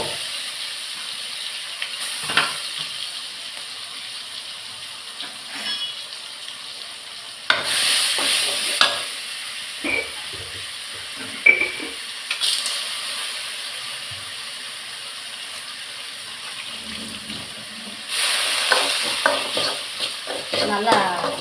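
Ground paste with fenugreek sautés in hot oil: soft sizzling and hissing run throughout, broken by several louder bursts of a spoon scraping and stirring the pan, with no talking.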